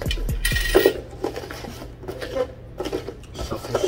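A coin tossed and landing during a casual heads-or-tails game at home, giving a few short metallic clinks and rattles near the start, with people talking and chatting throughout.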